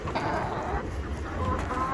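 Backyard chickens cluck softly amid steady wind noise outdoors, a few faint close calls over a continuous windy rumble.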